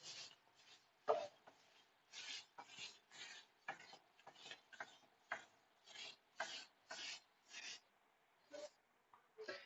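A duster rubbing writing off a classroom board in a run of about fifteen brisk scrubbing strokes, close and fairly quiet, with no talking.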